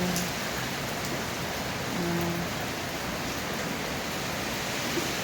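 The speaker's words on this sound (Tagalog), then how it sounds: "Sobrang ulan talaga" Heavy rain pours steadily in a dense, unbroken roar that continues throughout.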